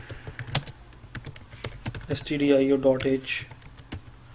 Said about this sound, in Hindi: मैं अपना कंपाइलर ओपन कर रहा हूँ और यहाँ पे ज़रा देखिएगा, मैं इसी कोड को लिखता हूँ